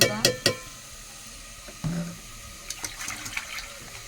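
Water splashes into a cooking pot over a gas stove in a home kitchen, a few sharp bursts at first, then quieter intermittent pouring and trickling close by.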